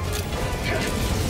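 Rifle magazine swap in Helldivers 2: a quick, dense mechanical clatter and knock sits over a steady low rumble of game noise, lasting only a moment.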